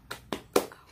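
Children in a classroom clap out the tepuk semangat routine, three sharp, evenly spaced claps ringing out close and clear in quick succession.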